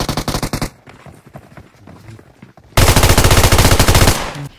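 Automatic weapon fire in the mobile game PUBG Mobile: a fast loud burst opens, quieter distant shots follow, then a long, very loud, close rapid-fire volley hammers on steadily before trailing off.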